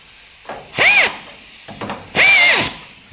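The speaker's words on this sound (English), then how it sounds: "the air drill, it's actually a lot more sensitive than the electric one" A pneumatic air drill fires in two short bursts, each a loud rising whine that is feathered on and off, with quiet gaps and faint shop clatter between.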